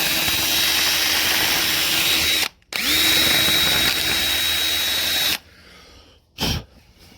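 A power tool, likely a drill with a wire brush or grinding attachment, strips rust from a tractor part, running loud and steady close by, cutting out briefly, restarting, then stopping, with faint handling noise after.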